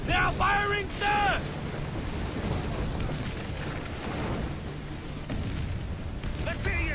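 Ship cannons firing in the pirate naval game Assassin's Creed IV Black Flag, a sustained rumbling barrage of booms under a continuous wash of battle noise, with a crew member's shouted voice at the start and end.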